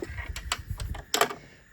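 A sewing machine stitching a short run back and forth to reinforce the end of a fabric charm bracelet, a few quick bursts of needle clatter separated by brief pauses, close and fairly quiet.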